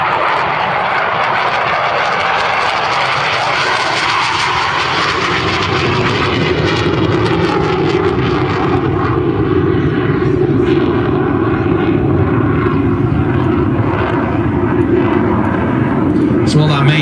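Hawker Hunter jet aircraft at an airshow, its engine giving a loud, steady roar throughout, mixed with someone talking over it.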